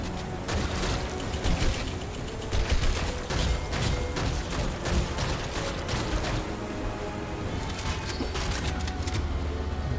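Pistol fire in the video game Foregone: repeated sharp shots spaced through a busy, continuous bed of game noise and mechanical clatter, no talking.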